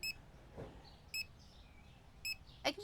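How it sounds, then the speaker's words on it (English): Checkout scanner in the Supermarket Simulator video game beeping as items pass through, with four short, high electronic beeps at fairly regular intervals over a quiet background and no voices. "I still get the satisfying beep"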